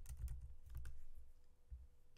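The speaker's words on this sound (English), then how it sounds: "We're just gonna type in TinyLlama." Soft clusters of key presses tap on a computer keyboard, with a short burst, a pause, then a few more quick clicks, heard close and quiet with no talking.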